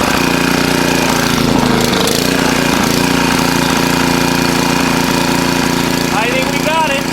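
A Pramac GC160 generator with a Honda small engine catches and settles into a steady, loud running drone that fills the whole stretch, close by, with faint sounds in the background.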